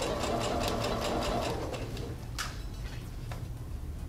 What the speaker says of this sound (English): we're gonna continue sewing our beautiful quarter inch where we stopped sewing before